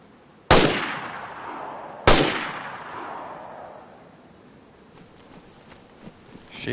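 Two loud gunshots ring out in the survival game DayZ, each a sharp crack followed by a long echoing tail across open terrain, spaced about a second and a half apart, with faint clicks and shuffling afterward.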